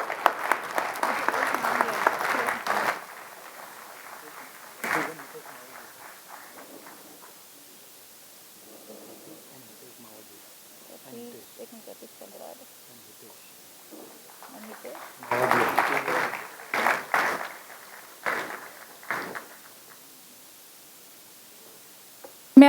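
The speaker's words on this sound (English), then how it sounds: "Ladies and gentlemen, may I have applause?" An audience applauds at a mediation conference session, a burst of clapping at the start and another swell later, with quieter stretches of scattered sound between.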